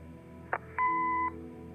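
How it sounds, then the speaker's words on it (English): An answering machine in the video game Kathy Rain gives a click and then a single clean electronic beep lasting about half a second, quiet and alone. "Leave a message after the beep."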